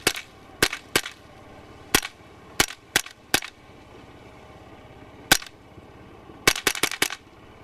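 Mini rifle shots at a shooting competition stage: sharp, crisp cracks fired in irregular bursts, a few spaced single shots, then a quick string of five near the end, each short and punchy against a quiet background.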